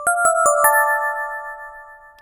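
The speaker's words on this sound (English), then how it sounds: "if you bring the release up, it kind of fades out like a bell" FM synth bell patch with a long release: four quick bell strikes, then a sustained chime that rings on and slowly fades, clean and alone with no voices.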